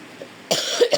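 One person with a cold coughs twice in quick succession, short harsh bursts that break a brief quiet.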